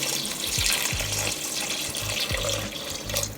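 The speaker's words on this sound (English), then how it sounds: "Now we're going to add in our beef broth or stock or whatever you got." Beef broth pours into a pot in a continuous splashing, gurgling stream, close and moderately quiet.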